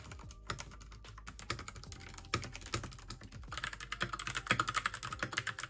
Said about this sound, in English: I also really like the typing sound and I describe it as on the quiet side